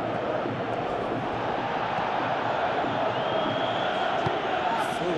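Stadium crowd noise from PES 17 football game, a steady broad roar from a large Champions League crowd, Inter away against Benfica, running continuously and evenly with no distinct claps or peaks.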